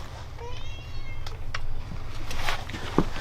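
A cat meows indoors, giving several short, fairly close meows spread across the moment, with a brief voice heard in the background.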